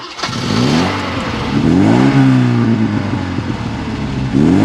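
A 1984 Alfa Romeo Giulietta 2.0L pulls away and accelerates, its engine note climbing through the revs, easing at a gear change, then rising again, loud and close from inside the car.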